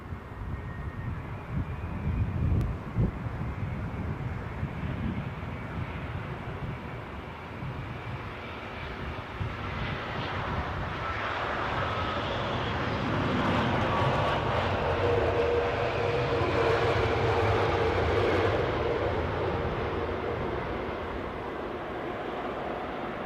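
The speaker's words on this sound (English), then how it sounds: "Inbound from Dubai, a 7879 Dreamliner." A British Airways Boeing 787-9 Dreamliner inbound from Dubai arriving at London Heathrow, a distant, fairly quiet engine roar that slowly builds and swells toward the middle before easing, with light wind rumble underneath.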